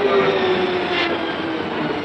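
A train runs steadily throughout, a continuous rumbling rail noise with a faint tonal hum, moderately loud with no clear speech.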